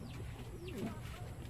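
A homing pigeon coos softly in a breeder cage, a short low murmur over a steady background hum with a faint higher chirp.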